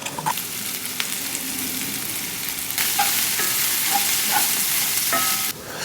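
Onions sautéing with salt and pepper in a hot pan, a dense continuous sizzle that grows louder partway through as seasoning is stirred in, close and steady with faint scraping, no talking.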